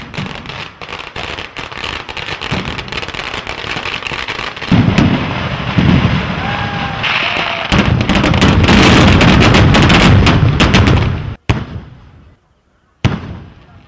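Fireworks at a church feast day in Puthuppally, a long display of continuous dense crackling bursts and loud booming explosions that builds to a roaring peak, then breaks off into brief quiet gaps between final blasts.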